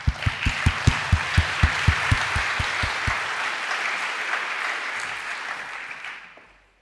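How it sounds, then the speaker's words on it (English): Audience at the EAS 2023 astronomy plenary session breaks into applause, a dense patter of clapping with a regular beat of rhythmic claps at first, then fading away. "Let's give them a round of applause."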